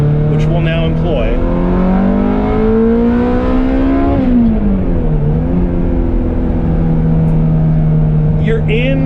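Ferrari F355 Berlinetta engine climbing through the revs under hard acceleration, a loud, steady harmonic wail that rises, dips briefly at a shift, then climbs again, close and continuous throughout.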